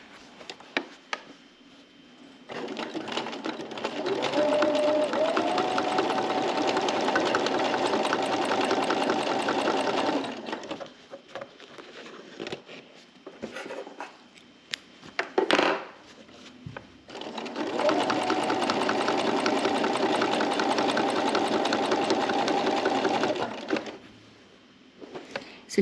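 A sewing machine quilts as you go on a quilt block, running in two long steady bursts of rapid stitching with a quiet pause between them and a few brief handling noises.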